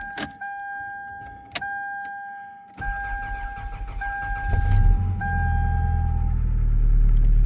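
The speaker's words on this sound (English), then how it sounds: "I should be able to fire up the car." A 1997 Toyota Camry engine, unstarted for ten years, cranks and catches, preceded by a few clicks and a steady electronic chime; the motor then settles into a rising, rumbling idle.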